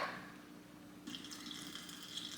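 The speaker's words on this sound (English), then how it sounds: "I'm gonna go ahead and pour in my power wash, then my vinegar" Power wash cleaner and vinegar poured through a funnel into a bottle, a soft steady trickle of liquid that thickens into a brighter splashing flow partway through, fairly quiet and close.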